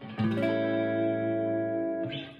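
Electric guitar played through a Supro Delta King 12 amp with a Walrus Audio Deep 6 compressor and Slow reverb pedal: a single sustained, compressed chord ringing steadily with a soft reverb tail, then fading.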